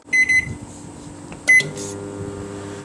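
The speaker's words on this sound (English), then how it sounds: "I'm gonna put the cookie in, microwave for 20 seconds" A microwave oven beeps a couple of times, then hums steadily while heating a cookie for 20 seconds, with a short beep and a click partway through.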